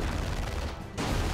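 Dense gunfire from the Warhammer 40K Dawn of War II: Retribution video game, a continuous loud battle clatter that briefly thins for a moment, then surges back at full intensity.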